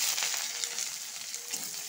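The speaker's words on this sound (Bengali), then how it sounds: "মানে 6-7টা রসুন মাঝখানে ফেলে নিচ্ছে, তো ভেজে নেব। সাথে 2টা মতন পেঁয়াজ ঢেলে দেব" Garlic cloves and onions fry with dried red chillies in a pan, giving a faint, even sizzle with light crackle, close and continuous without talk.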